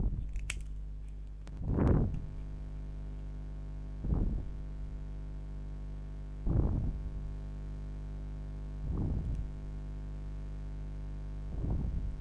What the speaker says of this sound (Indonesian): Anda bisa mendengar suara guntingnya.